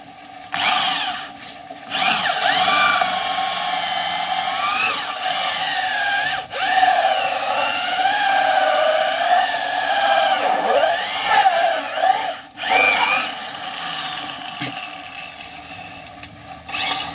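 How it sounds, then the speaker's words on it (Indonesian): A hollow bit drills out a disc for a hydraulic ram pump delivery valve, a steady loud whining grind that runs almost nonstop for about fifteen seconds with brief dips where the bit catches. "Kita langsung bor seperti ini."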